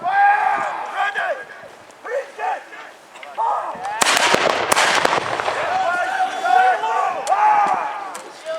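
Musket volleys crack out at a Battle of Culloden reenactment staged at a Highland military tattoo, a dense burst of loud, overlapping shots with sharp echoing reports, set amid crowd noise and a narrator's voice talking before and after.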